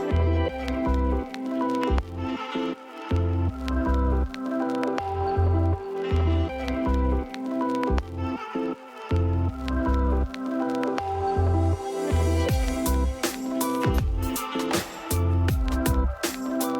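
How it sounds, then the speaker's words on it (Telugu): Ghee-coated rice is spread evenly over a layer in a pot of mutton dum biryani, giving close, wet squishing and soft scraping sounds in an irregular, continuous rhythm. "రైస్ అంతా ఈవెన్గా స్ప్రెడ్ చేసుకుందాం"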